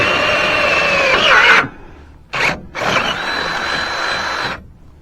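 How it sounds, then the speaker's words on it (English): Power drill boring holes into a steel trailer frame, a loud whining bore that stops, gives a short burst, then runs again steadily before cutting off. "I'm going to put some holes right down here in the frame and just bolt it on each side there"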